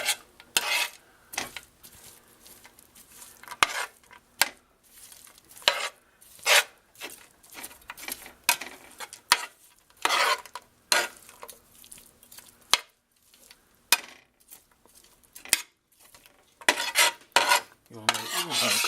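Thawed spinach stirred in a pan for stromboli and cooked to drive off its water: irregular scraping and clinking of a utensil against the pan, close and fairly sharp, with a faint steady sizzle underneath and no voices.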